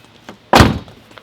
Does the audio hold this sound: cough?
no